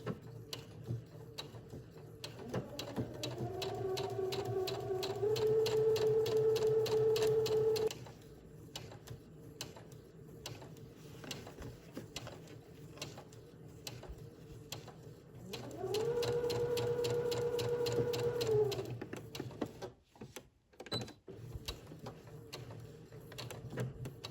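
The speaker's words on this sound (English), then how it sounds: "Align your sleeve cuff with the needle on the side where the facing is and stitch." A sewing machine stitches a shirt dress sleeve cuff in two bursts of steady, rapid whirring, each a few seconds long, separated by quieter pauses with light mechanical clicks and handling.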